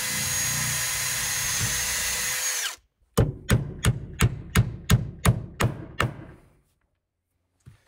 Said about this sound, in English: I'm gonna pre-drill every one of these